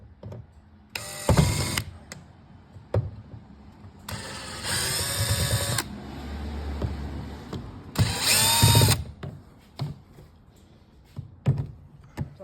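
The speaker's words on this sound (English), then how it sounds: "I'm gonna get my cordless drill." A cordless drill whirs in three separate bursts, each a few seconds long, removing screws from a Honda, with quiet clicks and handling noises in between.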